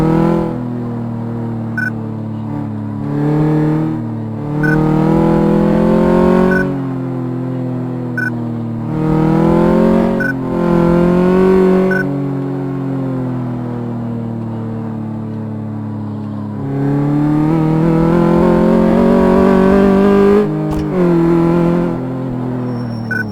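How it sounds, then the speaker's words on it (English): A van engine in Car Mechanic Simulator 2014 revs up repeatedly in loud, sustained surges that rise and fall between idle stretches, with no talk. "Doesn't sound anything like this van probably should sound."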